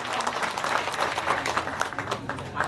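A small audience at a Kenduri Cinta gathering claps steadily for a brief stretch, moderately loud and close, with no voices over it.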